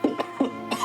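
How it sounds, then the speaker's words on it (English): Several harsh coughs from one person suffering from asthma, close and fairly loud, coming in an uneven rhythm of about four bursts in under a second with no talk between them. "I'm just going to cough a bit more"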